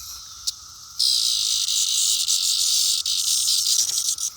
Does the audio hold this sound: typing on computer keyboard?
no